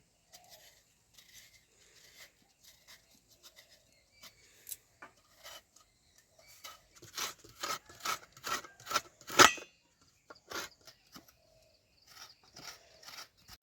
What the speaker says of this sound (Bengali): এবার নারকেলটা কুড়িয়ে নেব পাটিসাপটার পুর বানানোর জন্য